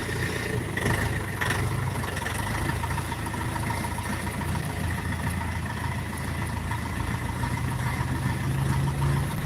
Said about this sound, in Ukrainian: Ось даний трактор поїде